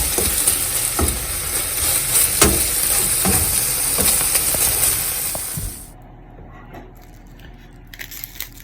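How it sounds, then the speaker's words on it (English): A pot simmering on a stove turned down to half heat: a steady, fairly loud bubbling hiss with scattered clicks for about six seconds, then dropping away to near quiet. "So they're going to do more of a simmer than an actual boil."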